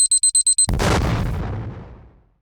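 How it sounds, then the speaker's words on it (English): A rapid series of six high electronic beeps cuts off into a deep, roaring explosion that slowly rumbles away into silence. "the device around his neck started beeping"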